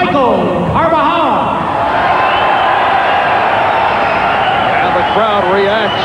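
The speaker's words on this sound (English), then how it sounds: "Crowd reacts to Michael Carbajal" An arena crowd at a 1988 USA-versus-Canada amateur boxing match cheers and shouts with a steady roar as the boxer is introduced, with whistles and voices rising above the din.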